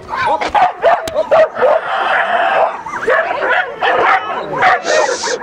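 A Belgian Malinois dog whimpers and yips in high, repeated bursts, close and loud, interspersed with short barks, while someone talks over it.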